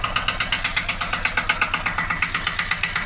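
An Ursus tractor engine idles close by with a steady, rapid chugging pulse, loud and even throughout, with no voices.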